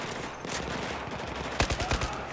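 Rapid gunfire bursts in the PC shooter Battlefield 4, a dense run of sharp close shots clustered near the end over a steady busy game backdrop.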